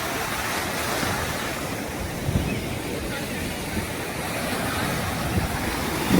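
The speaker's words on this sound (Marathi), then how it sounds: "लाटा येतच जात आहे." Sea waves breaking on Devbag beach, a continuous roaring wash of surf with gusty wind noise, close and steady throughout, with no distinct talking.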